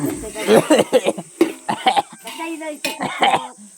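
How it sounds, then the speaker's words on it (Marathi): A person coughs in repeated harsh bursts from chili fumes while chili rice is being made, with laughing and voiced sounds mixed between the coughs, close and loud. "मिरची भात काय करत खोकलो लागलो माका"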